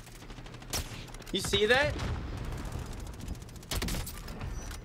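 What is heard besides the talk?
gunfire from a gun in the video game Warzone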